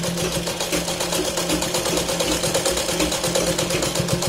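Sewing machine stitching the edge of a Katori blouse, a rapid steady needle chatter with a motor whir, close and continuous with even rhythmic pulses and no talking.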